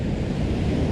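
Ocean waves crashing on rocks along a seascape shore, a loud continuous low roar of surf blended with gusting wind buffeting the microphone.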